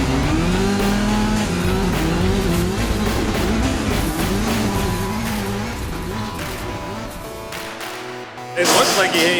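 Subaru rallycross race cars at Memphis Global Rallycross roar past together, with loud revving engines and tire noise running steadily and then fading before a sharp burst near the end.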